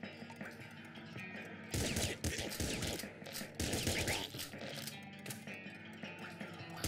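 Shotgun blasts ring out in the video game Nuclear Throne, several loud bursts in quick succession amid clattering game effects, with spent shells bouncing around tight corridors.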